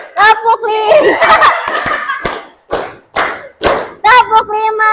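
Classroom children clap in time during a counting exercise, a cluster of overlapping claps followed by several distinct, evenly spaced group claps, with young voices chanting loudly before and after.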